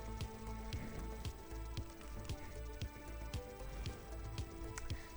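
Rain falls on a street in Odhav, Ahmedabad, with scattered drips and taps landing at irregular moments over a low, steady wash of background noise; faint and distant overall, with no talking.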